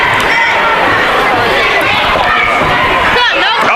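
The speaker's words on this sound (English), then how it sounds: "Crowd chanting USA" An arena crowd at the Winter Freeze 2016 fight between Josh King and JC Harper roars and chants USA, a loud, dense and steady wall of voices filling the whole stretch.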